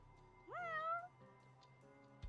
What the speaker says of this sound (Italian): Oh, guarda, un gatto!